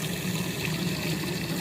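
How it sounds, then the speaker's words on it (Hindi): Water pouring steadily from a tap into a bowl set out for crows and sparrows, a continuous close gushing fill at even volume with nothing else over it. "तो अब मैं रखती हूँ भर के पानी"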